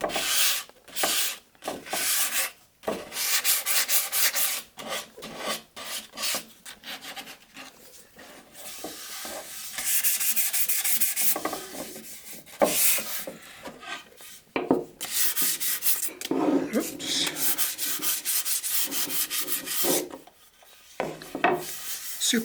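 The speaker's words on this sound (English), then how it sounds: "Always sand along the grain with the grain." Wood is sanded by hand along the grain, with repeated rasping strokes in irregular bursts and short pauses between passes, close and moderately loud, with no voices.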